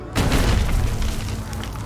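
A medieval cannon fires once, giving a single loud, heavy boom that rolls on into a sustained rumble for over a second.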